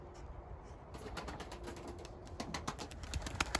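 Young tumbler pigeons with freshly completed wings fly overhead, giving faint wing flutters and soft flapping bursts against a quiet outdoor background.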